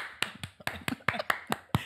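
Eight sharp hand claps in a quick, slightly uneven rhythm, close and crisp, each one short and separate with brief quiet between them.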